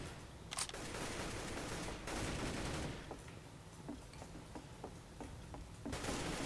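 Gunfire in the video game CS:GO: bursts of rapid shots at the start and end with a string of spaced single cracks between them, fairly faint over a busy game background.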